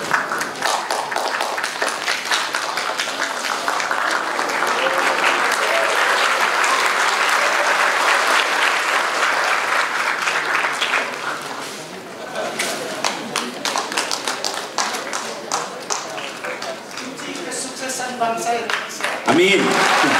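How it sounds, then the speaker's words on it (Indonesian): An audience at a public lecture at an Indonesian arts institute breaks into sustained, dense applause that fills the room, easing slightly midway before swelling again, with a voice speaking faintly beneath it. "Tepuk tangan."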